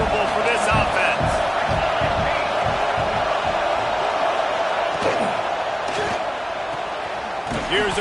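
A college football stadium crowd roars steadily for UCLA against Louisville, a dense, loud wall of cheering and shouting that holds for several seconds, with a commentator talking over it.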